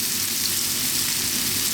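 Salmon pieces seasoned with salt fry in a pan over lowered heat for a salmon cream sauce pasta, giving a steady, close, dense sizzle that runs unbroken and fairly loud throughout.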